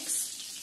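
Tomato butter gravy with Kashmiri red chili powder stirred in a pan, giving a brief close hiss and sizzle with soft scraping, with no voices.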